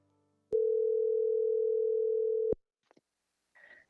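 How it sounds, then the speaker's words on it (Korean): A single steady telephone tone sounds for about two seconds while a phone call is being connected, then cuts off, followed by a few faint clicks and a brief soft sound. "먼저 전화를 연결해 보겠습니다"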